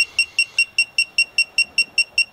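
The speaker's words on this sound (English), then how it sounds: "you got the red light and you got the audible beep" Rapid, evenly spaced electronic beeps from a SUZUME 3/8-inch drive digital torque wrench repeat about five times per second, sharp and high-pitched, close and loud with no other sounds.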